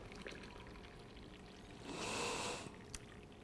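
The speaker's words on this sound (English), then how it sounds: "And you fill it up with some boiling hot water." Boiling water pours from a kettle into a teapot of fresh mint for Moroccan mint tea, a short steady splash and trickle lasting about a second, close and moderately loud against a quiet kitchen.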